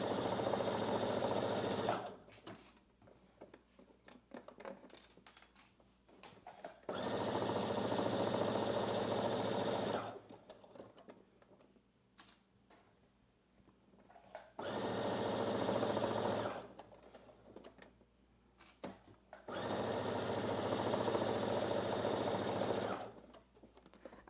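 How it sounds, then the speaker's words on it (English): A sewing machine runs a straight regular-length stitch down a dress seam in long steady bursts, each whirring several seconds before stopping, four runs with quiet pauses between, no talking. "I'm gonna go sew all the way down to the bottom"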